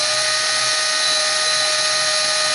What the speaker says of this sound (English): I'm drilling the hole now for the stem.